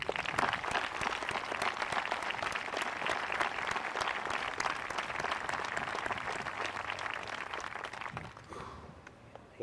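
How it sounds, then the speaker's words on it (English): Graduation audience at the Bromfield School ceremony claps in a long, dense, steady round of applause that stays loud for most of ten seconds, then thins and trails off at the very end. "Can we please offer a round of applause for all of the people who have made your journey in this evening possible."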